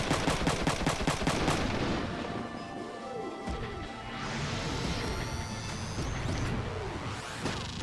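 Beam gun fire in the mecha strategy game Front Mission 3, rapid crackling bursts at the start, then warbling sci-fi tones and rising electronic sweeps over a continuous busy battle backdrop.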